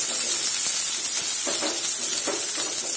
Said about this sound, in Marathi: आपण कांदा टाकूया. उभा चिरलेला कांदा आहे. याला पण छान परतून घेऊया.